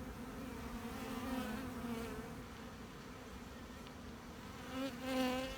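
Honeybees buzz at an open hive with the brood nest, syrup and pollen exposed, a dense, continuous near hum that swells slightly near the end.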